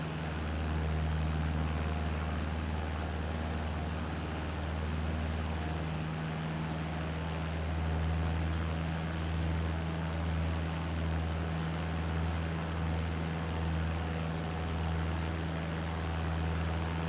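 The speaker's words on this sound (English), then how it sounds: "Let's see if we reduce that engine noise in a little bit" Small propeller aircraft in flight on a crosswind turn, a steady loud engine drone with low throbbing hum and broad hiss throughout, no talking.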